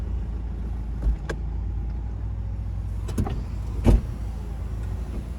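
Electric windows on a diesel Mercedes-Benz E220 CDI BlueEFFICIENCY Sport Cabriolet: a low motor hum runs in the cabin, with short clunks as the glass starts and stops, the loudest near the end.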